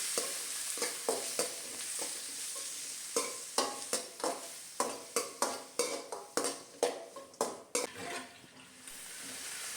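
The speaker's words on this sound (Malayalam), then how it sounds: "തക്കാളി അരിഞ്ഞതും ചേർത്ത് കൊടുക്കാം. നന്നായിട്ട് നമുക്കൊന്ന് വഴറ്റി കൊടുക്കാം." Chopped tomatoes with curry leaves being sautéed in a pan, a spoon scraping and stirring in a quick run of repeated strokes over a steady close sizzle, with no talking.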